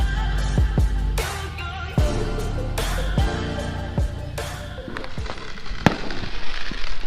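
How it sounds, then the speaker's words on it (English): Aerial fireworks bursting over a Hawaii rooftop, a string of sharp, loud booms and crackles spaced a second or so apart, with a steady rumble of more distant explosions underneath. "aerial fireworks are completely illegal in Hawaii"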